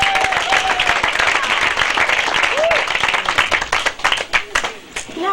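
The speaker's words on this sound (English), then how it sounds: "Let's have a hand for our MC" Comedy club audience applauding for the MC, steady dense clapping filling the room throughout, with a few whistles and cheers rising over it.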